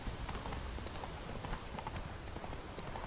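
Rhythmic clip-clop of horse hooves trotting at a steady pace in the video game The Witcher 3, fairly soft, with a faint background hum.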